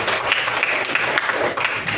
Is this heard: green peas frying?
no